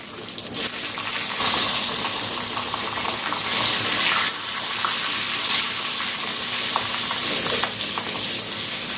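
Cumin, curry leaves and green chillies sizzle and crackle steadily in hot oil for a dhokla tempering, a close, continuous hiss with light stirring and no talk.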